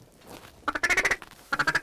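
Two quick bursts of duck quacking during a Nebraska waterfowl hunt, a rapid run of nasal calls followed by a shorter second run, close and fairly loud.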